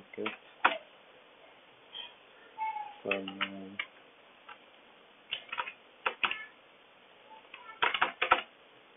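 Computer keyboard keys tapped in short scattered bursts while a name is entered into a payroll system, a brief flurry of clicks near the end, faint and close, with a low voice talking.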